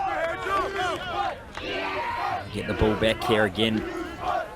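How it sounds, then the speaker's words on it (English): Crowd at a Friday night rugby union match between Washington and St. Louis cheering and shouting behind close commentary talk, a steady roar rising in bursts. "can hear the crowd in the background really"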